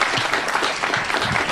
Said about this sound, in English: And as we conclude with Martha, let's give her a round of applause for the bagpipes.